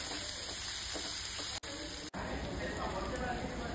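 Tomatoes sizzle steadily in a pan with cumin, asafoetida, ginger-garlic paste and onion, a close, continuous frying hiss with a couple of brief dropouts and some stirring.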